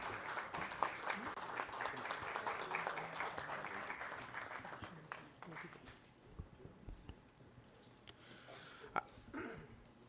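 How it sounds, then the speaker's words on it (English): Applause for the guest of honor at the grand finale of a lawyers' quiz. The crowd claps fairly loudly for about five seconds, then fades into scattered claps and murmuring room noise. "If we can have a round of applause, please."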